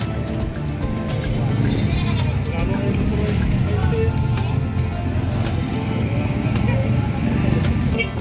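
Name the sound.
goats bleating at San Carlos City livestock market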